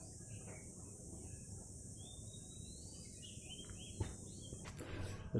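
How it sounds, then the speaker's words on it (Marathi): Small birds chirp and twitter faintly in a banyan tree at dawn in a village, with scattered high calls over a steady hum of insects and a quiet outdoor background. "त्या वडावर पाखरे मस्तपैकी किलबिल करतायत आवाज येत असेल तुम्हाला"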